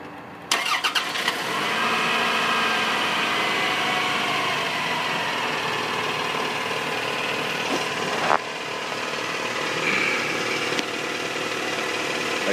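A 1998 Toyota Camry with a 2.2-liter four-cylinder cranks briefly and catches, then settles into a steady, close, fairly loud idle that runs unbroken for over ten seconds.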